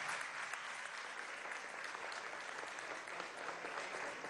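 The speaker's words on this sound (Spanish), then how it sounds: "vamos a darle un aplauso a ese cantante de 12 años" An audience at a school event applauds a twelve-year-old singer, with sustained, even clapping from a crowd at moderate distance and no voices over it.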